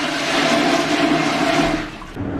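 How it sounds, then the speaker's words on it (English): A wall-mounted flusher sends a toilet flushing aboard the Queen Mary ship, a loud continuous rushing of water that holds steady for about two seconds and then drops away, with no one speaking. "The flusher's on the wall. And it just flushes."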